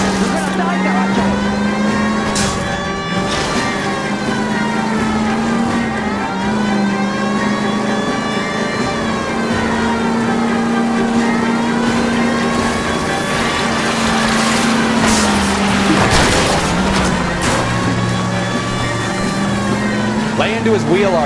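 A 1940s car engine revving hard during a police car chase in the video game L.A. Noire, a loud continuous whine rising and falling in pitch with voices shouting over it.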